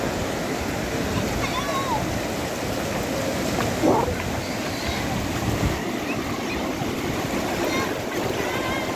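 Sea waves wash in at Ain Diab beach in Morocco, a continuous loud surf roar with wind, heard up close.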